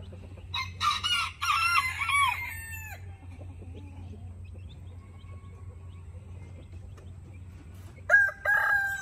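Silkie hens foraging with their chicks, giving bursts of loud, close clucking and squawking at the start, a quiet stretch in the middle, then another short burst of calls near the end over a steady low background hum.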